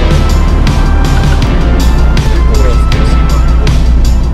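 A car drives along a road through Abkhazia, with a loud, steady engine and road roar throughout and a voice talking over it.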